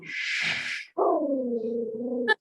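A dog vocalising nearby: a short rough breathy burst, then a long, drawn-out, falling howl-like cry that ends abruptly.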